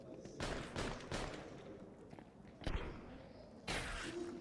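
Gunfire in a professional Counter-Strike match at IEM Rio 2024, a few loud sharp shots at uneven intervals with brief rushing gaps between them and no voices.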